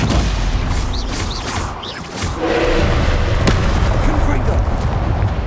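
Spells are cast and strike during combat in the video game Hogwarts Legacy, with whooshing and crackling magical blasts, thumps and impacts layered over constant battle noise and a voice calling out.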